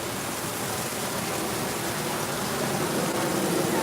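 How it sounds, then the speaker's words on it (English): Rushing water close by makes a steady, loud, unbroken roar with no pauses and no speech. "Is the water too loud?"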